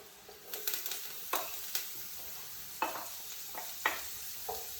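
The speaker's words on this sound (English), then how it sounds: "I'm just going to give those a nice stir." Garlic and thyme stirred into sizzling leeks and carrots in a pan: a soft steady frying hiss broken by a series of distinct scraping stirs, close and fairly quiet.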